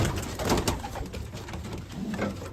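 Racing pigeons packed in a basket before a 290-mile race coo continuously in soft, overlapping calls, close and fairly loud, with some rustling and no talk.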